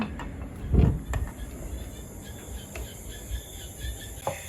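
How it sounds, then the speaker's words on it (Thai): Insects chirp in a steady high drone, with a brief low croak from a frog near the start and faint scattered clicks in the background, outdoors by rice fields in Uttaradit, Thailand. "เสียงเขียดร้อง"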